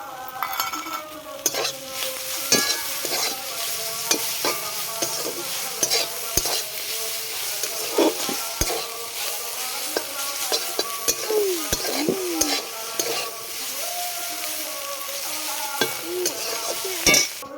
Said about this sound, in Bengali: এবার চিংড়ি মাছটা অ্যাড করে দেবো মধ্যে।